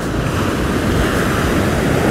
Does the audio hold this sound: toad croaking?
no